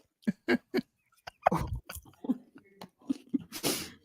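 Close, crisp crunching bites and chewing while eating, a few sharp bursts followed by softer irregular mouth noises and a breathy rush at the end, with no talk over it.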